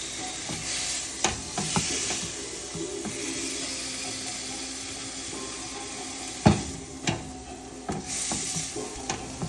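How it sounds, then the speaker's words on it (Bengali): Boiled eggplant is mashed into bharta with a few green chilies, giving faint, soft squelching and stirring with occasional light knocks against the bowl, steady and quiet throughout. "আমি এখন এটাকে ভর্তা বানিয়ে নিব।"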